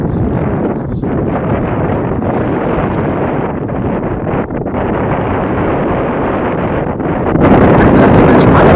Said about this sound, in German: Wenn man mal anhält, hat man nichts außer Wind